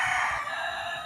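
A rooster in Cuba lets out a single loud, close crow, held as one sustained strained note across the whole moment, with no voices.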